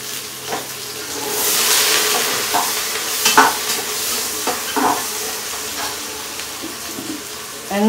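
A large onion and three or four green chilies dropped into hot oil for tomato rice hiss up into a loud, bright sizzle, with stirring clatters and scrapes against the pan as the frying settles.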